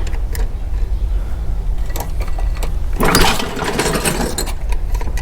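A Briggs and Stratton dethatcher engine is cranked, producing rough, uneven mechanical chugging and clattering with a louder burst of churning noise midway, close by and without talking.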